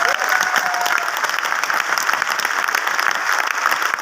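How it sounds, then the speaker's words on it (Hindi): Loud, sustained applause from a seated audience at an Azadi Mahotsav event in Jaipur, Rajasthan, with many hands clapping in a dense, even roar throughout. "एक बार अपने लिए, खुद के लिए जोरदार ताली बजा दीजिए"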